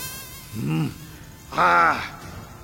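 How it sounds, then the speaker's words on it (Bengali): Mosquito buzzing effect in a Bengali radio drama: two short whining buzzes about a second apart, the second louder and higher, fairly close against a quiet background. "মশাটা ঠিক তার গালের ওপর গিয়ে বসেছে।"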